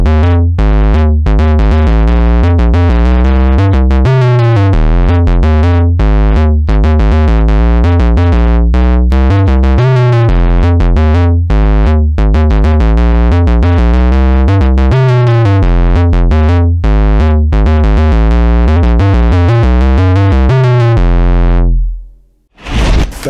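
Octabass patch on a Behringer 2600 synth, saw oscillator FM-modulating the second oscillator: loud, buzzy, deep bass notes played in a steady rhythmic sequence for about twenty seconds, then cut off abruptly.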